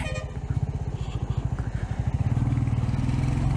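A Royal Enfield Meteor 350 motorcycle on the move gives a loud, close, low thumping engine note with a steady rhythmic pulse that grows fuller and smoother toward the end.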